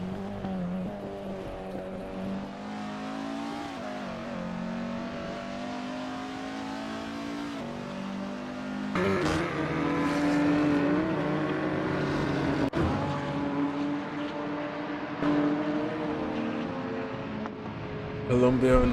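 Race car engines roar steadily in a sim-racing league round at Monza, harmonic engine tones rising and shifting as cars accelerate through gears, loud and continuous, with a commentator talking over them.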